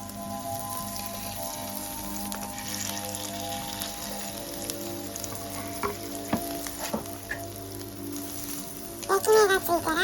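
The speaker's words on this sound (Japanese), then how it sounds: "油をひいたら中火で焼きます。" Mini hamburger patties frying in oil over medium heat give a continuous close crackling sizzle, with some brief clatter and a few louder pops near the end.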